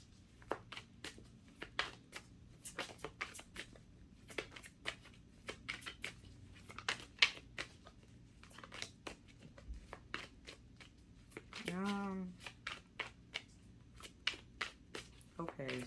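Tarot cards are shuffled by hand during a reading, a long run of crisp riffling flicks and soft slaps repeating close to the microphone, with a brief low voice murmuring partway through.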